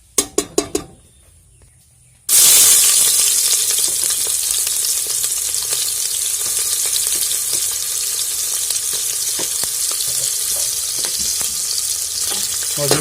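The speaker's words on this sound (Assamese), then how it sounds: "পিঁয়াজখিনি অলপ ভাজি ল'ম হাফ ভাজি ল'ম" Onions for chicken biryani drop into hot oil after a few sharp clinks, setting off a loud, steady, crackling sizzle that continues close up to the end.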